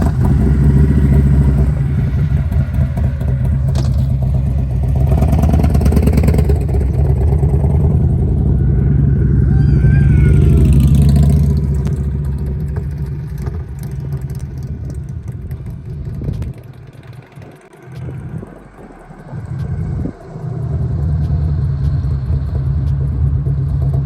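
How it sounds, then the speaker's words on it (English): Harley-Davidson motorcycle in a parking lot, its engine running with a loud, close, continuous rumble that swells and settles, dips briefly with some clattering, then picks back up. "Turn the bike on."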